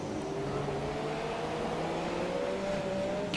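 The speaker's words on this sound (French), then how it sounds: "je préfère le son du moteur de la Force India que de la Haas" A Force India Formula 1 car engine in the F1 2017 racing game at Malaysia, a steady droning whine with a slowly rising pitch, moderately loud and constant, with no talk.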